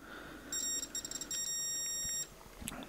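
A multimeter emits a high continuity beep while testing a wire in a broken hairdryer, a sustained tone broken into several bursts over about two seconds, close and clear with light handling noise around it.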